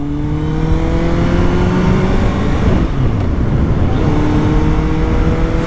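A Kawasaki Z800 motorcycle rides onto a highway, its engine loud and close with a steady drone that rises through the gears, pausing briefly midway as the rider shifts, then pulling again with strong wind noise.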